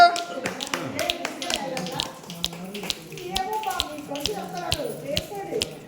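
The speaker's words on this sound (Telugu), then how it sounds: "వేయండి అబ్బా చిటికలు" Finger snaps from a group of guests at a wedding anniversary celebration, many quick sharp clicks in an uneven rhythm, close and fairly loud, mixed with chatter and a voice.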